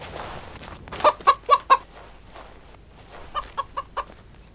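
Chickens cluck in the farm video game Rancher, a burst of four sharp clucks followed by a quieter group of four, clear and close over faint background noise.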